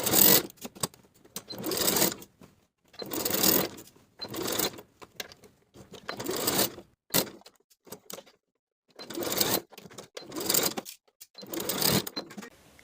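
A home sewing machine stitches a dress skirt to its waistband in short bursts of rapid whirring, each lasting a second or two, separated by pauses of near silence as the fabric is repositioned.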